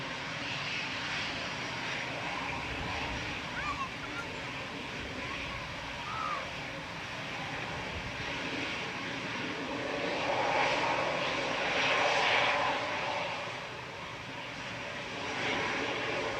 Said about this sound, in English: EasyJet spooling up in front of us